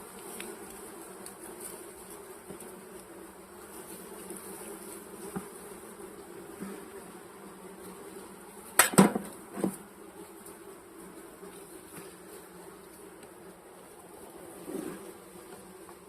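Honeybees buzz around an opened hive in a steady, faint drone of many insects, with a few louder passes close by midway and near the end.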